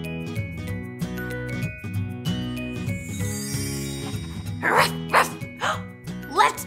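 Children's show performers imitate dog barks with their voices, giving several short loud 'ruff' calls in quick bursts over cheerful background music.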